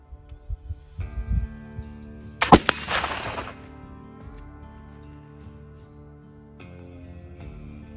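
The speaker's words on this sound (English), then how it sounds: "Well, here's shot number one." A single sharp gunshot from a black powder gun loaded with 50 grains of bamboo-charcoal milled powder cracks loudly outdoors, its echo decaying over a second amid faint birdsong and low handling noises.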